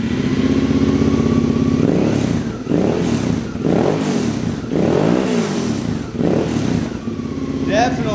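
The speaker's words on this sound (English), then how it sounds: "we're gonna start it up and you can hear the aftermarket exhaust" Suzuki V-Strom 650 motorcycle engine fitted with an Akrapovic aftermarket exhaust, loud and close, revving in four or five rising and falling bursts over a steady throaty idle.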